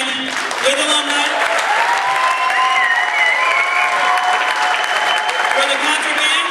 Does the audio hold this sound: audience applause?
yes